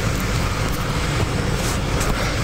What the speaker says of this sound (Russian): сейчас печечку сделаем потише